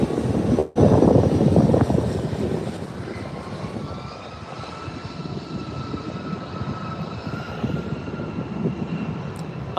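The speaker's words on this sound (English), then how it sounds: "Alaska Airlines from Guadalajara going around because of a JetBlue A320 that was still" Alaska Airlines jet from Guadalajara going around over LAX runway 24R, a loud broad engine roar swelling early then settling into a steady sustained rumble with a faint whine, no talk.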